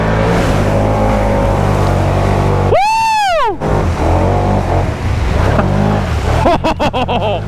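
Motorbikes on prototype mud tires churn through deep mud, engines roaring and revving hard up close, with sharp rising-and-falling whines as throttle is blipped, sputtering bursts toward the end.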